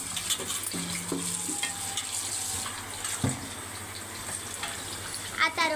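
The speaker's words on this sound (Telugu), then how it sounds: "అప్పుడు బిర్యానీ అన్నీ అందులో వేయాలి. మిక్సింగ్ చేయాలి." Biryani being stirred and mixed in a pan, with soft scraping and a wet sizzle running throughout and a few louder clinks near the end; a voice talks faintly in the background.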